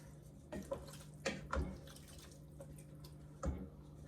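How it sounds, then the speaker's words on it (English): Broccoli soup with five cups of water is stirred in a pot, giving a few soft liquid sloshes and clinks spread over a low, steady background hum, close and quiet with no speech. "So that was 5 cups of water. Give it a stir."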